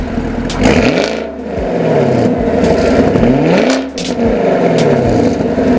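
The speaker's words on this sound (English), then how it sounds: "the sound of the stock exhaust with the MPP function" A 2016 Chevrolet Camaro 2SS stock exhaust: deep engine growl with rising and falling revs, two swells of throttle over a steady rumbling exhaust, loud and close.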